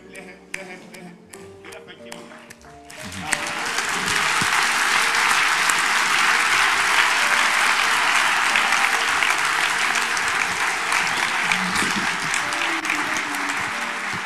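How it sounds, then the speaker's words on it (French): A church congregation breaks into loud, sustained applause that swells after a few scattered claps and taps, then holds as a dense, steady roar of many hands. "Et aussi ils ont applaudi comme ça."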